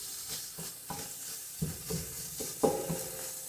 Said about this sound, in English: See how that's just frying up?